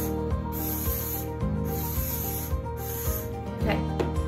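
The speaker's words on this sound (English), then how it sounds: "Spray." Hair spray hisses in several short bursts, each about a second long, close by while a braided hair crown is being styled.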